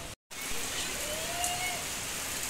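Steady rain falling on a rooftop, a soft continuous hiss of drops after a brief gap at the start, with a faint passing tonal whine in the background.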